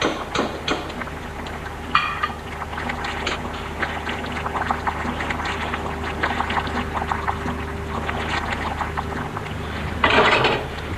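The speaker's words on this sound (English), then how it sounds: "Just drain them well, I don't want any water on the plate." Cooked beans are drained from a pot, with water pouring out steadily in a continuous close wash and a louder splashing surge near the end.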